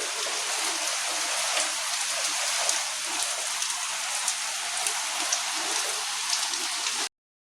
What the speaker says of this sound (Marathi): पावस पळया काय बरें पडटा